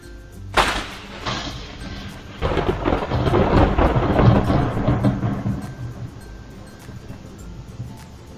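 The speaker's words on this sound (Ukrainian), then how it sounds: "Так, це був грім." Thunder rumbles loud and close in a storm: an opening crack, then a long, heavy roll that swells and fades slowly over faint steady rain.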